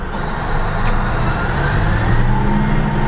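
A Caterpillar D9 bulldozer drives slowly in first gear, a steady loud diesel engine rumble with a constant low drone and faint higher whine, close by and without talk.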